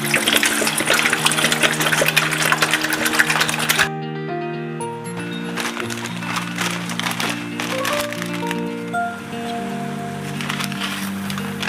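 Water pours into a cooking pot for stir-fried bulgogi noodles, giving a steady close splashing rush for a few seconds, then quieter trickling beneath sustained background tones.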